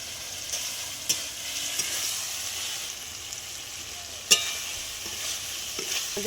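Fried potatoes are stirred into a pan of cooked-down spiced masala for a jackfruit curry, giving a steady sizzle with occasional scraping clicks of the spoon against the pan.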